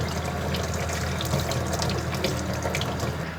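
Running tap water rinses a raw butterflied shrimp at a kitchen sink, a continuous close gushing splash with no talk.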